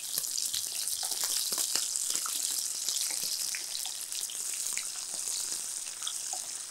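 Onion and garlic sautéing in a pan for a cumin kuzhambu, a soft steady sizzle scattered with small crackles and pops, close by, with no one talking.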